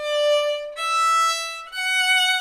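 Three held piano notes on the piano from Bach's Minuet 1, each one stepping higher in pitch, sounded cleanly alone with no talking.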